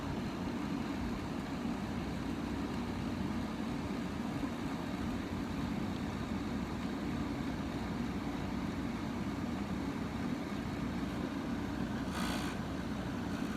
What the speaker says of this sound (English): now the compressor won't turn off.